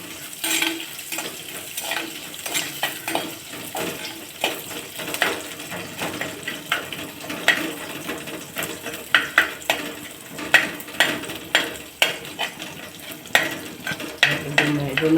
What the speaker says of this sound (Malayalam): ഇഞ്ചി വെളുത്തുള്ളി ഇട്ടുമ്മ നല്ല ഇളക്കി കൊടുക്കണം